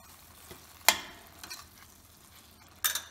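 Pumpkin sabzi being stirred in a pan after jaggery is added, with a few sharp scraping strokes and a soft sizzle underneath, close and fairly quiet, no voices.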